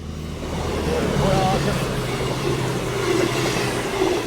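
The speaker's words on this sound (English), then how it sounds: "See, Clive looks at that train and says Voyager" A four-coach Voyager passenger train passes nearby, a steady loud rumble of wheels and engine with faint clickety-clack and brief squealing, voices talking over it.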